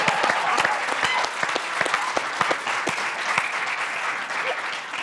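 Steady applause from an audience, dense clapping throughout with a few sharper individual claps standing out, fairly close and sustained.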